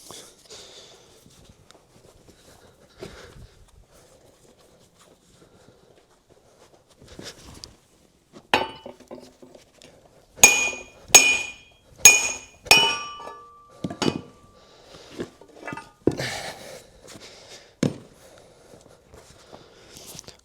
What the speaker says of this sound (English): we're going to hammer it out